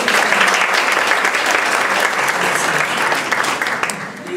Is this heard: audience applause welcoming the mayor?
yes